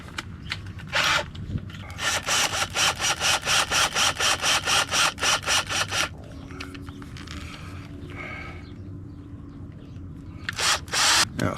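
A hand-worked tool cuts through material during trailer repair in rapid rhythmic strokes, about a dozen loud close bursts, then a pause with quieter scraping and a final couple of strokes.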